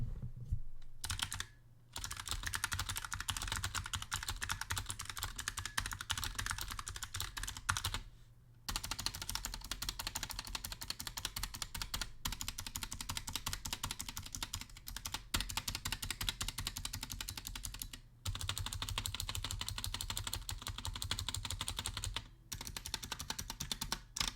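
Continuous fast typing on a Razer Huntsman Mini mechanical keyboard with purple switches, dense clacking keystrokes close up with a few brief pauses between bursts.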